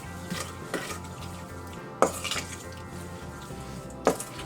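Blueberry tart filling made with flour is stirred slowly in a bowl. A utensil clinks and scrapes against the bowl in a few separate strokes, close and fairly quiet, over a low steady background hum.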